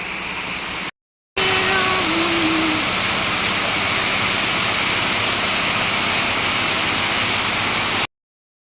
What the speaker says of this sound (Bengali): আজকে আমাদের এখানকার ওয়েদার প্রচণ্ড এখন বৃষ্টি হচ্ছে